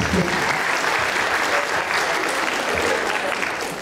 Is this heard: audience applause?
yes